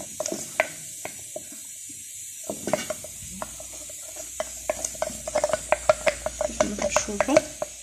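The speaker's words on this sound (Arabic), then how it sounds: "غادي نعكو داكشي باي ملعقه خشبيه ولا اي حاجه، غادي نعكوها باش الخشب يعني تجي معطره مستويه" A wooden spoon stirs homemade spiced ghee in a pot, giving a run of soft scrapes and clicks that grow quicker and denser toward the end, with a faint sizzle beneath and a voice talking over parts.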